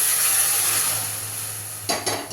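Vegetable stock goes into a pan of sautéed vegetables for veg manchow soup, giving a soft steady hiss with a few brief splashing bursts near the end and no talking.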